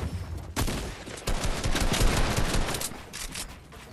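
Fortnite gunfire, a dense, loud volley of rapid shots that runs steadily throughout with no pauses and no talk over it.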